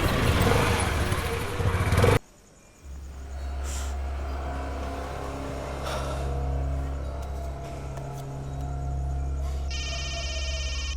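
A phone rings with an incoming call indoors after a burst of loud noise cuts off, leaving a low steady hum with faint tones and a bright, repeating electronic ring pulsing near the end.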